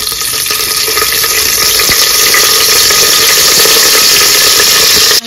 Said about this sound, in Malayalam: നമുക്കപ്പോൾ സവാള ഒന്ന് വഴറ്റിയെടുക്കാം.